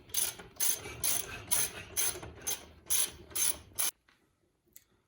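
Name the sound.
tightening dirt bike fork rebuild adjuster into tube assembly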